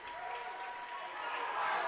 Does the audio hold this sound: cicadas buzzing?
no